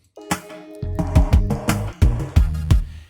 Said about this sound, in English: the use of the gated reverb drum sound